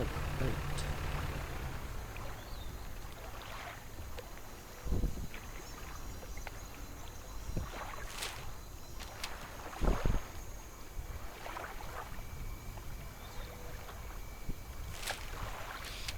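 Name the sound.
boat sailing on water, from a video game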